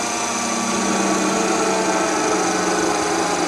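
A Parker Majestic ID grinder runs steadily with a smooth, even, high-pitched mechanical whine and hum, close and loud, with no knocks or bearing rattle.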